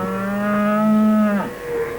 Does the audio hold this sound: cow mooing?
yes